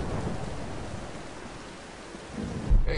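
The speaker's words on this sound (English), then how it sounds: "Hey, that's some rain." Rain pours steadily in the video game Tomb Raider, a dense hissing patter throughout, and near the end a deep thunder rumble swells up beneath it.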